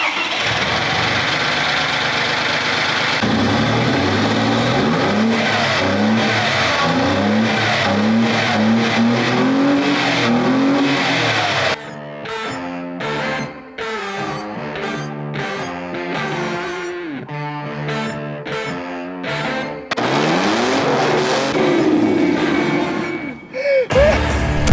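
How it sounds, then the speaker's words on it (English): A 2.8 V6 in an Audi B5 with a manual gearbox and straight-pipe exhaust cranks and fires, then idles and revs loudly and raw, with sharp blips and throttle bursts standing out clearly near the listener. "We are starting the Audi."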